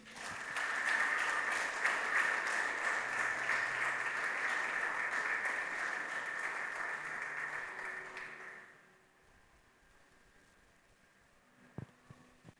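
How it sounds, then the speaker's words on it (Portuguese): A church congregation applauds during a worship service, a broad wash of clapping lasting about eight seconds before dying away into quiet room noise with a couple of faint knocks. "Você pode dar uma salva de palmas para Jesus?"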